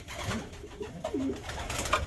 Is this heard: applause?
no